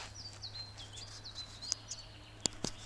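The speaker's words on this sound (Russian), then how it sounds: "И птички поют." Small birds chirp and call in a taiga forest, faint, thin repeated tweets with a few sharper chirps standing out over a low steady hum, no one speaking.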